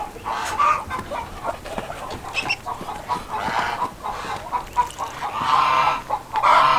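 Chickens cluck and squawk inside a backyard chicken coop and its lean-to. The busy, overlapping calls stay close and loud throughout, with no talking.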